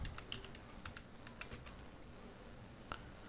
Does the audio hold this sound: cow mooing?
no